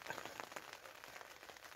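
Heavy rain pours down at a forest wild camp in Scotland, a faint, steady patter of drops on a surface, with no voices.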